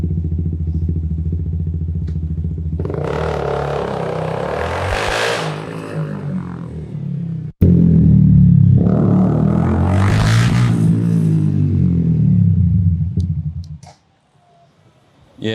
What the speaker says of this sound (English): I took out the silencer from the back exhaust